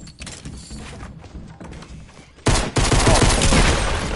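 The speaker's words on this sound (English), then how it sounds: "Oh, it's the egg launcher." Egg launcher weapon firing in Fortnite: quieter game sounds and thuds give way to a sudden loud, sustained burst of rapid blasts that runs to the end.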